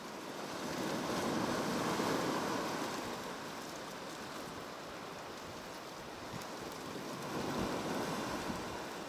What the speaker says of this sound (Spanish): un entrenamiento singular, con unas olas enormes y un viento de moderado a alto